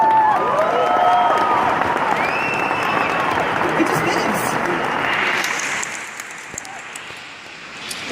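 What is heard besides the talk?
audience applause at a conference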